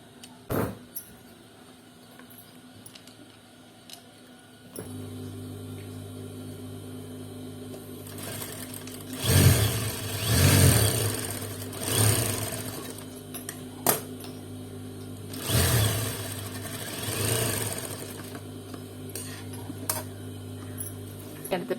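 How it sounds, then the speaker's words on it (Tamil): After a few quiet seconds a sewing machine starts up, humming steadily while stitching a plain seam on salwar fabric, with its motor surging in several louder bursts and a few clicks along the way. "ஸோ நார்மல் பிளைன் ஸ்டிச் போட்டு ஜாயின் பண்ணிக்கணும்."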